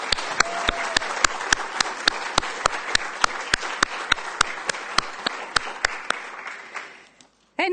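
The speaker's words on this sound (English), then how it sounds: "And I'd like to applaud Leslie." An audience at a summer program's closing ceremony applauds in a steady, full burst of clapping that carries at even strength before fading out toward the end.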